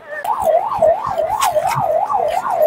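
A wailing ambulance siren sweeps up and down in steady regular cycles, loud and close, with faint traffic noise underneath, during the Rath Yatra festival in Puri.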